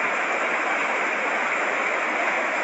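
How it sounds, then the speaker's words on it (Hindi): A swollen mountain stream in flood in Himachal, rushing several metres above normal beneath a threatened bridge after a night of heavy rain, a dense unbroken roar of water, loud and close with no voices. "ये नदी अभी भी उफान पर है, इतनी ऊपर चढ़ी, 4-4 मीटर ऊपर पानी का बहाव।"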